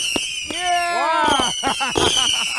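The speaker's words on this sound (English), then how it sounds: "just firing off fireworks" Fireworks are set off on an empty highway, with whistling launches rising and popping in quick bursts, loud and close, while people shout and talk over them.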